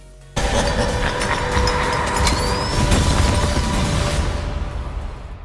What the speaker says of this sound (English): a pumpkin bomb explosion